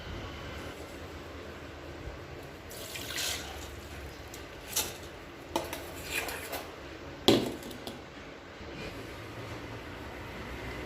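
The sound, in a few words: soaked rice being strained of its water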